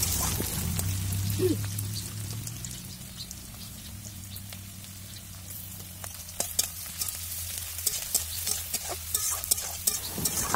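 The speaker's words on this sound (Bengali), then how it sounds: "এবার পেঁয়াজ কুচি, রসুন পেস্ট দিয়ে আর কি আজকের শাক ভাজাটা করে নেবো।" Leafy greens frying in a pan with chopped onion and garlic paste: a steady close sizzle with scattered clinks and scrapes of stirring that grow busier toward the end.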